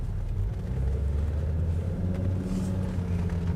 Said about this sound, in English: I like the sound of the 5-cylinder as well. It's a nice smooth note.